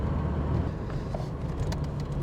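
A Volvo 480 engine hums steadily from inside the car while accelerating through a gear change, a low continuous drone with road noise and no clear surge.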